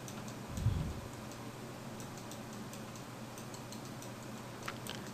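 Computer keyboard presses and mouse clicks while painting weights in Maya, holding the B key and clicking the left mouse button: faint, scattered light clicks and taps under a steady background hiss, with no talking.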